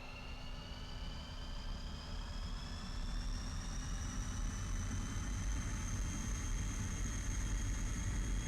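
A MiG-21 jet engine spools to full throttle in a flight simulator during a ground start with brakes held, a loud constant roar with rising whine tones that swells slightly and holds steady, with no talking.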